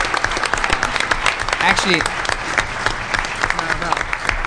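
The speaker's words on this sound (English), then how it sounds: "let's give him a round of applause" Conference audience at a DEFCON 17 hardware panel breaking into a sustained round of applause, dense steady clapping filling the room, with a voice speaking briefly over it.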